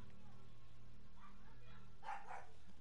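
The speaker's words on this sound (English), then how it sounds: "I gotta mute my mic for a bit because my dog is barking" A dog barks in a short burst of two or three yips, somewhat distant and muffled over a low steady hum, with no talk.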